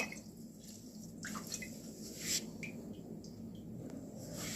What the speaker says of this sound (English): I'm going to squeeze the water out of it